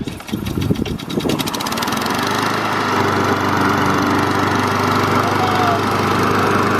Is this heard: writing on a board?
no